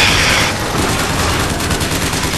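Gunfire in Bioshock Infinite, a dense continuous rattle of rapid shots and crackling bursts filling the whole stretch, loud and close with little pause.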